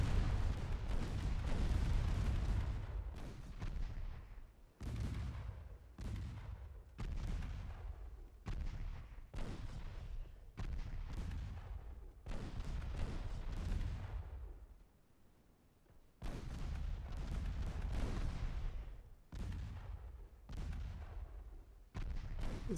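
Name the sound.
warship guns firing, video game Ultimate Admiral Dreadnoughts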